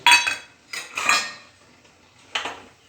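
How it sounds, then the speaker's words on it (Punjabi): Almonds and cashews are dry-roasted in a pan, heard as three short bursts of metallic clatter and rattling, close and fairly loud, with quiet gaps between. "ਬਦਾਮ ਮਗਦ ਜੋ ਵੀ ਕੁਝ ਪਾਉਣਾ ਹੈ ਕਾਜੂ ਇਹ ਪਾ ਕੇ ਸੁੱਕੇ ਹੀ ਭੁੰਨ ਲਓ"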